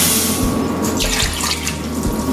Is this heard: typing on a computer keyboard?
no